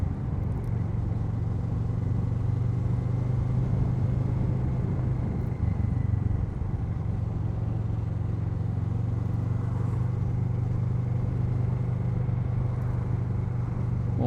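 A Kawasaki Z650 motorcycle with an Akrapovic exhaust rides along at low speed, its engine a steady, close, throaty rumble that swells gently as it accelerates, with no voices.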